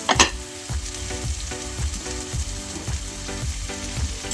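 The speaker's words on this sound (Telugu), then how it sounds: "సో క్యారెట్ అండ్ మనం క్యాప్సికమ్ కూడా వేసుకుందాం." Carrot and capsicum stir-frying in a pan for meal maker fried rice, a steady close sizzle with regular scraping stirs roughly every half second, backed by a faint tonal hum.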